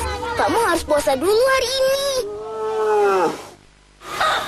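A water buffalo calf kept from its mother's milk on Samosir Island, Lake Toba, gives drawn-out bleating moos, close and clear, while a person speaks nearby.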